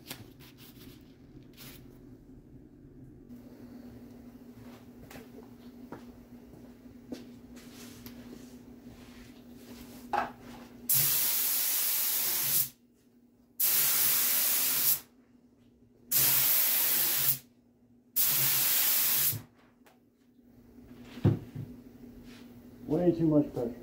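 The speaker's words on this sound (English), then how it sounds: "then we'll get on spraying lacquer" Spray gun hissing lacquer onto congas in four long bursts of roughly two seconds each, with short pauses between, loud and close; quieter shop noise and handling sounds come before and after.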